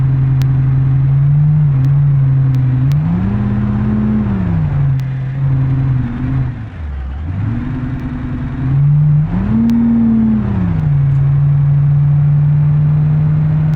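Truck engine in BeamNG pulling a loaded trailer, droning steadily with pitch rising and falling through gear shifts, a deep dip near the middle before it climbs again; loud, close and continuous with no talk.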